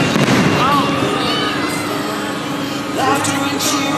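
Fireworks display at the Carowinds amusement park's 50th anniversary celebration: continuous crackling bursts with rising whistles, loud and close, over a murmuring crowd.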